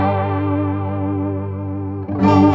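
An electric guitar runs through a modulation pedal with the speed at maximum, giving a sustained note a rapid, warbling rotary-speaker-like shimmer before a fresh strum rings out near the end.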